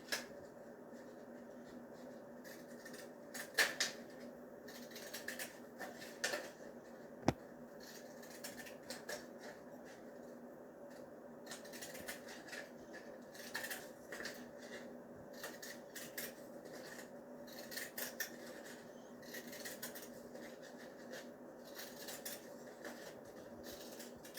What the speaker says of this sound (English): when I take the larger object and cut it out, I'm going to use these fun crafting scissors